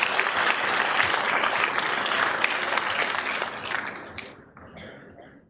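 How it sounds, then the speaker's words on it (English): Audience applause at an orientation programme, a loud, dense burst of many hands clapping together that holds steady for several seconds and then tapers off into scattered claps before fading out. "Give a round of applause to all those people who serve our nation."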